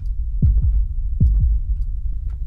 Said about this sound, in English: Whose heartbeat is that?